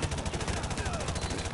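Gunfire in the Modern Warfare 2 campaign, a dense, continuous burst of rapid automatic shots that rattles steadily for the whole moment.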